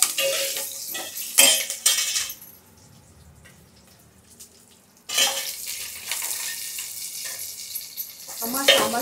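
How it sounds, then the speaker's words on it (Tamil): Spices tempering in hot oil for sambar, with bursts of loud crackling sizzle and clattering pan and utensil noise, a quieter lull in the middle, then the frying and clinks return close up. "இப்போ சாம்பார் முதல்ல தாளித்து முடிச்சிடுறேன்."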